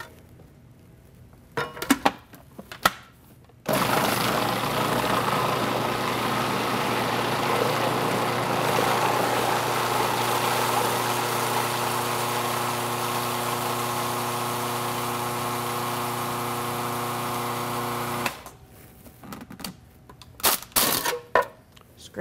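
A blender whirring steadily for about fifteen seconds as it mixes a soy dessert with sugar, loud and constant, bracketed by short clatters and handling noises before and after.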